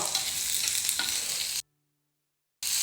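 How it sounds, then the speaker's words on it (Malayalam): Shallots, green chillies and curry leaves sautéing in a pan, a continuous hissing sizzle with light stirring, briefly cut to silence before the sizzle resumes. "ഇതൊന്ന് കളറ് മാറി വരുന്ന വരെ ഒന്ന് വഴറ്റണം"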